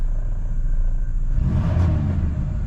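Pontiac Grand Prix GT engine idling after a warm start with a failing mass airflow sensor, a steady low rumble that swells briefly midway before settling back to idle.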